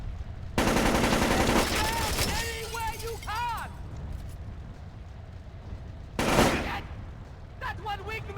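Enemy gunfire in the stealth game Splinter Cell: Chaos Theory, a loud burst of automatic shots followed by a second short volley, with game effects and a voice talking over it.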